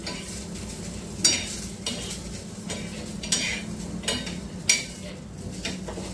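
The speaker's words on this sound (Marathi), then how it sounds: "कारल्याचे काप आहेत ते असं वेपर्स सारखं करत आहे त्याला आता तेल टाकून भाजायचं" Thin bitter gourd slices frying in oil in a pan on low heat, a soft continuous sizzle with a few light utensil clinks and scrapes at intervals.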